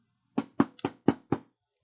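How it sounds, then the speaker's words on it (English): Five firm knocks on a door, close and crisp, in a quick, slightly uneven rhythm, against a silent background. "There was a knock at the door"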